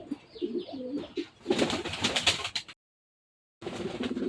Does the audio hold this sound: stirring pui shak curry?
no